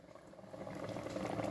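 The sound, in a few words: mango boiling in a pot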